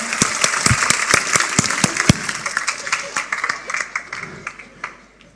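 Sharp, spaced claps from a congregation at a sermon on finding a spouse break into scattered applause that thins and fades out over a few seconds, with a voice faintly present.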